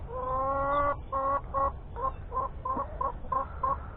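Chickens clucking in a cage in the morning, a steady run of short repeated clucks and calls close by, with no talking.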